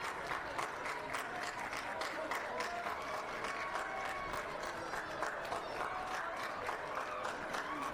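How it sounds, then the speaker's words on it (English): Baseball fans at a 2A high school championship game between South Sevier and Kanab keep up steady rhythmic clapping, a dense crowd sound that stays level and continuous throughout. "When you hear that clapping from the fans"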